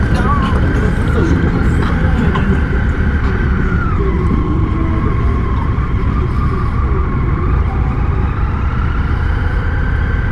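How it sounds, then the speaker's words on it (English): A Suzuki GSX-S motorcycle being ridden at a bike festival in Ocean City, Maryland, gives a steady, loud, low engine drone mixed with wind rumble, its pitch dropping noticeably once partway through as the rider shifts. "It's so weird riding a bike that's quiet."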